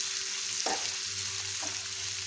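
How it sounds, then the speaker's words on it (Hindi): Garlic butter chicken with vinegar and soy sauce stirred in a hot pan over a high gas flame, a steady close sizzle broken by a couple of scraping stirs, with no talking. "इसको मिक्स कर लेंगे।"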